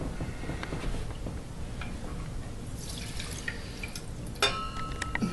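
Liquid is poured from a processing vessel and scraped out with a spatula, giving quiet dripping, trickling and light scraping taps, fairly close and soft, with one sharper clink near the end.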